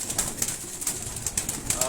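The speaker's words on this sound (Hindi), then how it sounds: "आप एक एक कबूतर दिखाते हैं, सियालकोटियों को दिखाओ, कसूरी है वो दिखाओ।" Sialkoti and Kasuri pigeons coo and shuffle close by, with soft repeated wing flutters and a busy low background, and a voice murmuring underneath.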